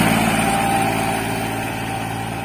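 A New Holland 3600-2 Super tractor's engine runs at a steady idle-like throb, loud and close, with an even mechanical drone throughout and no talking.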